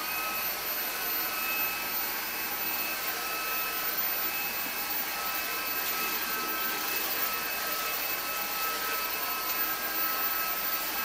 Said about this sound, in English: the motor spins up your brush, and it runs across the floor so easily